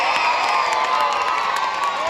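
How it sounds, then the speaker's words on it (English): A crowd at a children's football festival presentation cheers loudly for parents, coaches and managers, a dense roar of shouting and whooping voices, many of them children, sustained throughout. "So give them a massive cheer."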